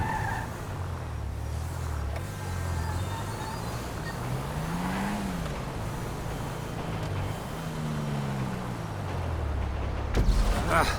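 A heavy truck drives in GTA Online, its engine droning low and steady with two rising and falling revs, plus a skidding tire noise, alone with no talk.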